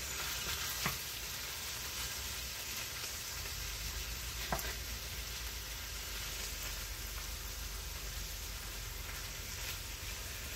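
Frozen meat cooking in a hot pan gives a steady, even sizzle throughout, broken by a couple of faint clicks, with no voices.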